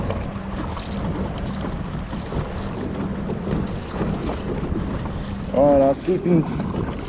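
A boat pushed by a trolling motor running on a marine battery moves through wind, with steady wind buffeting and low water and motor rumble. Someone speaks briefly near the end.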